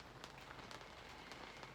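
Rain falling on the top of a window, a soft steady patter of drops with occasional sharper taps, faint and continuous with no one speaking.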